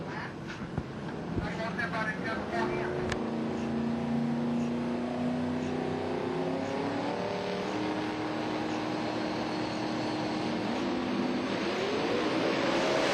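A twin-turbo 1965 Nova and a supercharged Mustang launch at a drag race, their engines roaring with rising and falling tones that carry across the track under crowd noise and an excited commentator.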